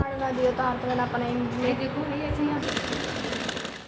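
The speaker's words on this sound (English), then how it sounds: "It is the sound of electric sewing machines as rural women learn sewing skills to build a better future." Electric sewing machines clack and whir in a workshop in Nepal where rural women learn to sew, a steady mechanical chatter mixed with voices talking over it.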